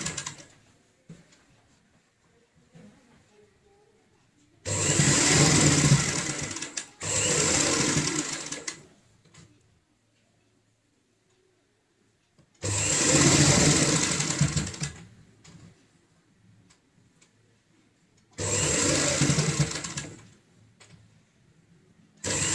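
A sewing machine stitches along the edge of a homemade door mat in four loud, close bursts of rapid whirring, separated by quiet pauses where the fabric is repositioned.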